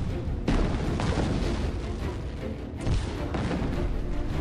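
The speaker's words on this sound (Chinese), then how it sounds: "东北野战军炮兵集中火力射击国民党军配水池地堡群" An artillery barrage pounds Nationalist bunker positions, with several heavy booms landing over a continuous rumbling roar, loud and close.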